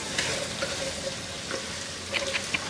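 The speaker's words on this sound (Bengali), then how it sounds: "আর এর সাথে আমি একটু লবণ দিয়ে দিব, দিয়ে আলুটাকে এর সাথে 4-5 মিনিট মাঝারি আর লোয়ের মাঝামাঝি আছে ভেজে নিব আমি।" Potato pieces fry with a little salt in a pan over medium-low heat for aloo biryani, giving a steady close sizzle with a few sharp ticks from stirring.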